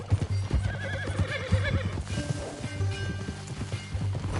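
A horse in Red Dead Redemption 2 whinnies with a wavering, high call while its hooves clip-clop steadily and close by, with low rumbling ambience underneath.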